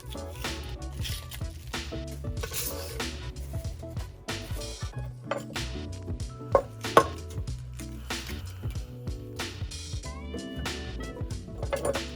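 A knife chops through a small onion on a cutting board while making spicy collard greens, giving a steady run of close, dull cutting taps with a few sharper knocks.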